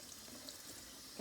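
A tap runs water onto a cutting mat being cleaned. It is a faint, steady hiss of flowing water, quiet and continuous, with a brief louder splash at the very end.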